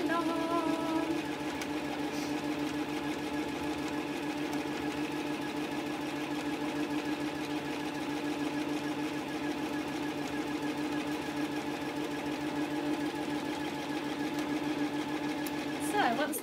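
A sewing machine runs steadily and continuously, stitching fabric panels together for a mug caddy, its motor hum loud and close.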